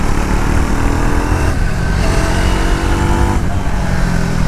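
Triumph Tracker 400 motorcycle being ridden, its engine droning loud and steady throughout with broadband road and wind rush and slight shifts in pitch, no talk over it.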